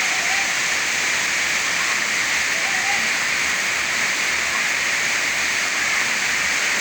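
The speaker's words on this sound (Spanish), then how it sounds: "Está que llueve mucho, mucho, mucho por acá, está todo mojado." Heavy rain pours down steadily in a wet outdoor setting, a dense, constant hiss of water close by with no letup and no voices.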